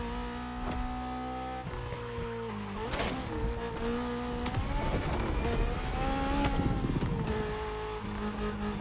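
A Honda S2K engine in The Crew Motorfest video game revs steadily and close, its pitch climbing and dropping through shifts over several seconds, with tire and road noise underneath.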